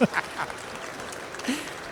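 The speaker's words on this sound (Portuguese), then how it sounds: "Eu acho que merece um aplauso, não merece não?" An audience at a hospital-sector conference on tax reform claps briefly, a light scattered applause following a sharp opening sound and with faint voices mixed in.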